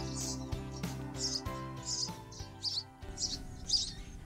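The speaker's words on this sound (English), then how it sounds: "These little sparrows are only 3 weeks old" Three-week-old baby sparrows chirp in quick, repeated high bursts throughout, fairly close, with a steady low musical background beneath them.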